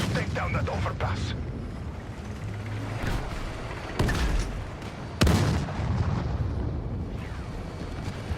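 A bridge is blown apart in Battlefield 6, with heavy booming blasts and sharp cracks over a constant rumble of battle, loud and close.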